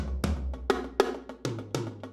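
Quiet snare drum strokes played in a loose pattern, single hits spaced unevenly with a short ringing decay, alone without talk.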